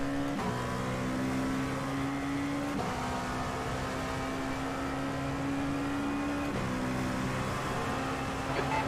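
A Dallara P217 prototype race car in a sim racing game at Interlagos drones along at steady high revs, with the engine pitch dropping at a couple of gear shifts while another car is caught.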